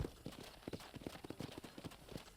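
Horse hooves clip-clop at a steady trot in the Red Dead Redemption video game, a quiet, even rhythm of muffled hoof falls over a soft, noisy background.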